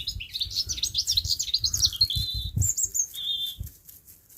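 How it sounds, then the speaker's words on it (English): Birds chirping and tweeting busily nearby, a steady stream of quick high calls with a few longer whistled notes, no voices. "Listen to the birds."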